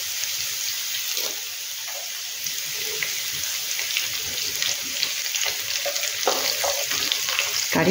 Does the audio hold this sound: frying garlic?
yes